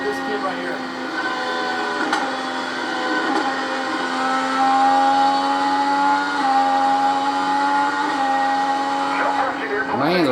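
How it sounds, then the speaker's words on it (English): An IndyCar engine heard from onboard, a steady loud buzzing drone with tonal whine that wavers slightly as the driver modulates the throttle hunting for grip, continuous throughout. "Just listen to him hunting on the throttle, trying to find the grip"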